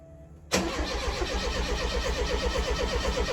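A Ford RS2000 engine cranks on the starter during a cylinder compression test, a sudden onset followed by a fast, even, pulsing churn, close and loud for about three seconds.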